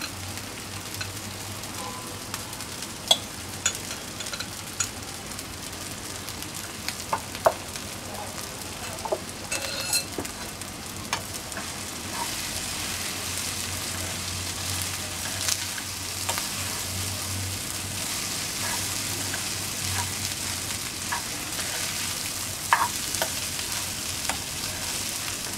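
Spiced cooked rice being stir-fried in a pan for phodnicha bhaat gives a steady, fairly quiet sizzle with soft scraping of the spatula throughout. No one speaks.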